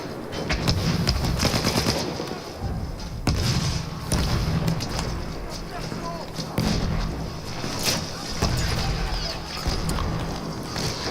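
Repeated sharp shotgun blasts in the Battlefield 1 video game land every second or two amid a dense battlefield din of distant explosions and gunfire.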